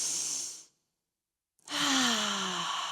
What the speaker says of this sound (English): And we'll take a deep breath again.